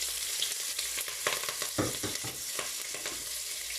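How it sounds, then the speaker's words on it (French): Onions and green beans sizzling in a pot, with repeated scraping and clattering as the mixture is stirred, moderately close and steady. "C'est là que je vais faire frire les oignons et tout le mélange"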